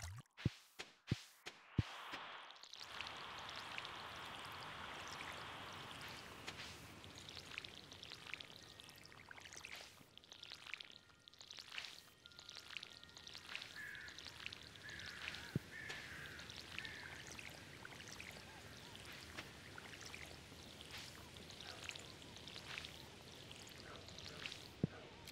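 Watering crops with a watering can in the farming game Stardew Valley: a broadband splash of pouring water early on, followed by softer dripping and trickling game effects, with no talking.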